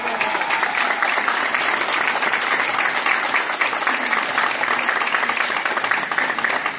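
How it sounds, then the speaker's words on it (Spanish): Sustained audience applause after a medical testimonial talk in Peru fills the room, a dense, steady wash of many hands clapping at even loudness throughout. "fuerte el aplauso"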